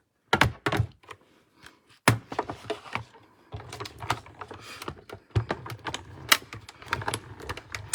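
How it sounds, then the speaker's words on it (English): A Stampin' Cut and Emboss die-cutting machine, fed a die against white cardstock, gives off a series of close clunks and ratcheting clicks in an uneven rhythm, with brief quiet gaps between sharper thumps. "I'll run this through my Stampin' Cut and Emboss machine."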